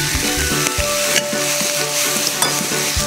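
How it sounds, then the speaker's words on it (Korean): Sausage and vegetables stir-frying in a hot pan, a loud, steady sizzle with continuous stirring and utensil scrapes throughout, no voices. "자, 이제 볶아주세요."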